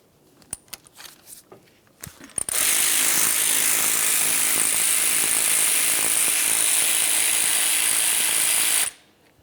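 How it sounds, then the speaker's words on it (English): A ratchet spins out the 5mm Allen head brake caliper slider pins on a 2010-2013 Ford Transit Connect, giving a few scattered clicks and then a loud, steady buzzing rattle held for about six seconds before stopping. "continue on by removing each of the 5mm Allen head slider pins"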